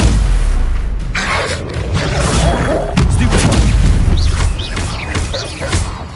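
Incendio fire spell cast in the Hogwarts Legacy video game, a loud booming magical blast with whooshing bursts and crackling effects layered over continuous game sound for several seconds.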